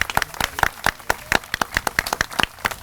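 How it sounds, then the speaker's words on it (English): A small audience claps at a university esports jersey unveiling event, with distinct individual claps forming a brief, loose round of applause, close and fairly sparse rather than a dense roar. "quick round of applause"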